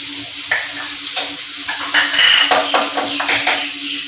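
Chilli and ginger sizzle in butter in a hot wok, with a spoon stirring and scraping the metal in quick, close clatters over a steady frying hiss.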